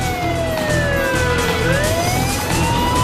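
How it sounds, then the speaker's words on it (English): An ambulance siren wails loud and close as the vehicle speeds through a downtown business district in Huntington Beach, California, its pitch sweeping down and up over steady traffic rumble. "An ambulance roars through the downtown business district."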